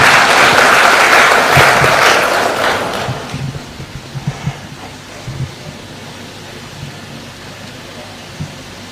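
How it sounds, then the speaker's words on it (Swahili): A crowd at President Ruto's signing of the housing bill claps in a loud, dense burst that dies away after a few seconds, leaving a quieter room with scattered small knocks. "Tumpigie rais makofi kwa hiyo kazi."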